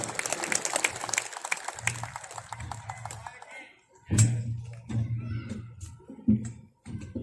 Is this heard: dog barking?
no